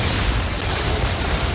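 Weapon explosions in the video game Sanctum 2, with an enlarged explosive radius, form a dense, loud, continuous rumble of overlapping blasts with heavy low-end boom across the whole moment.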